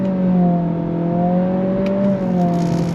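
A 2026 Acura Integra A-Spec sedan accelerates under throttle, shifting with simulated gears: a steady, close engine drone with a clear, slowly climbing pitch, heard alone without talk.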